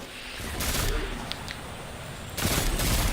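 Pulse rifle fire in Destiny 2 during a strike: two dense bursts of rapid shots, the first short and the second running to the end, loud and close over a steady game-ambience rumble.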